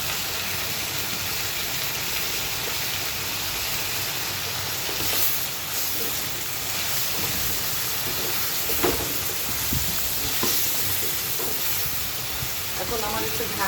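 Pumpkin pieces with salt and sliced green chili sizzle steadily in a hot pan, a continuous close frying hiss with occasional stirring scrapes and crackles throughout, no talking.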